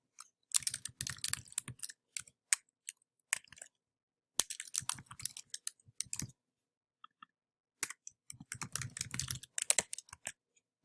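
Typing on a computer keyboard in quick clustered bursts of close, crisp key clicks, separated by short silent pauses, with no voices.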